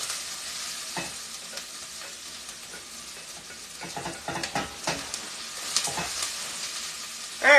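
Onions and jalapeño sizzle quietly in a pan, a soft steady frying hiss broken by occasional stirring scrapes and clinks, with a louder knock at the very end.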